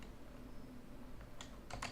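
Typing on a computer keyboard in an educational room, with a few quick, light key clicks in a short burst over a steady low background hum, no voices.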